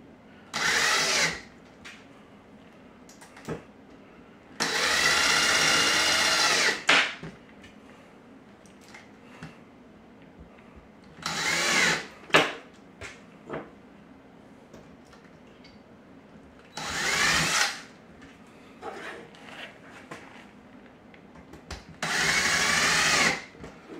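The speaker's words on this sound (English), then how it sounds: "So let's get four screws and we're gonna pre-drill them." A power drill pre-drills screw holes while building a Tesla coil, whirring in several short bursts separated by quieter gaps with faint handling noises, each burst lasting one to three seconds.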